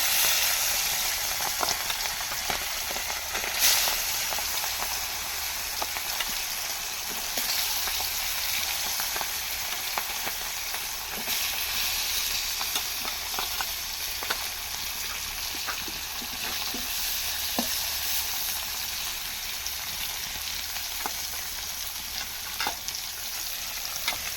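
Fish frying in hot oil in a kadai makes a loud, continuous crackling sizzle with scattered sharp pops and spatters throughout, close by and alone.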